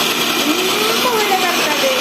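A kitchen mixer grinder whirs steadily while grinding batter, a continuous motor drone with a faint rising pitch, with a voice speaking over it.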